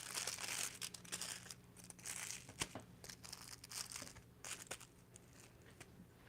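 Aluminium foil being folded and creased during hair foil highlighting, giving close, steady crinkling and crumpling with a few sharper crackles, no talking.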